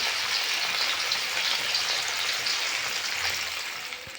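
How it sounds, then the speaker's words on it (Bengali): Pieces of katla fish frying in hot oil give a steady, dense sizzle that holds nearly constant before easing slightly toward the end, with no talking. "বন্ধুরা মাছ সব ভাজা হয়ে গেছে"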